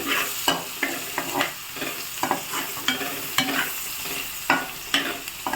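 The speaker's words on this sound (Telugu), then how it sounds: "వెల్లుల్లి వేసుకుందాం ఫ్రెండ్స్" Garlic frying in hot oil in a pan, stirred with a spoon: a continuous close sizzle with regular scraping strokes every half second or so, no voices.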